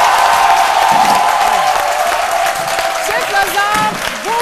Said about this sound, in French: qu'on puisse applaudir notre cuistot